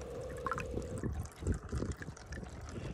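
Water with purifying tablets added pours and trickles from a drain pipe in the Isfahan desert, a close, continuous liquid gurgle with small splashes and a low rumble underneath.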